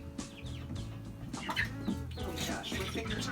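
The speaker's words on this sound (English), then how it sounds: "these are bantam birds, so these birds are going to be much smaller than the birds that I'm going to release right now" Small bantam chickens cluck and call as they are released into a new run, several overlapping bursts of clucking over a steady background rustle.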